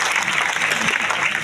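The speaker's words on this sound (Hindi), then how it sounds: "जजपाल जज जी का जोरदार तालियों से स्वागत करें।" An outdoor crowd at a Hindi public inauguration ceremony breaks into loud, dense applause that stays steady for about a second and a half.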